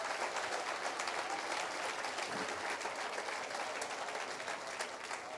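Church congregation clapping during a Spanish-language sermon, a dense continuous patter of many hands, quite faint and distant, steady for several seconds.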